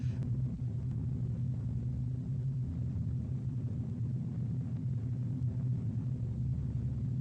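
A low, steady engine drone rumbles on without a break, like heavy aircraft engines heard from inside the plane, with no voices; the engines of the B-17 bomber Memphis Belle.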